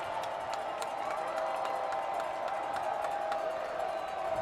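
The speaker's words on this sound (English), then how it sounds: "You can hear the crowd responding to it." Spectators at a Chapman versus Pomona Pitzer college football game hold a continuous crowd roar with scattered claps and shouts during a field goal attempt, steady and moderately loud throughout.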